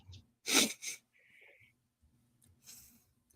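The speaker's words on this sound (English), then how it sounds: "nobody had to hear my sneeze" A single sharp sneeze bursts out, followed by a second smaller burst, then a quiet breath and a soft exhale afterward.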